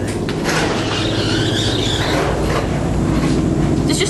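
A Harrison City Line train rumbles and rolls along the rails with a steady, loud, broadband roar and faint squealing overtones, without voices.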